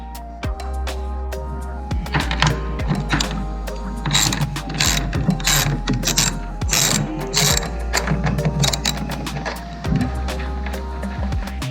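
A ratchet wrench clicks steadily while backing out the 10mm bolts on a 2014 Ford Explorer side mirror, with loud, close, rapid pawl clicks in repeated bursts and short pauses between strokes, no talking.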